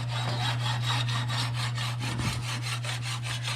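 Rhythmic rasping strokes of a file and sandpaper on the metal body of a 1948 Chevy Cabriolet convertible, about a dozen even back-and-forth passes over a steady low hum, close and alone.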